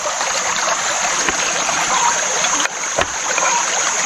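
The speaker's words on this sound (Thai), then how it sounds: "รอน้ำมันเดือดอยู่พอดีเริ่มเริ่มจะ เดือดขึ้นเป็นฟองขึ้นมาแล้วนะ" Hot cooking oil heating outdoors in a natural setting, starting to bubble before batter-coated wild vegetables go in; a steady, close, full hiss of fine bubbling runs throughout with no talking.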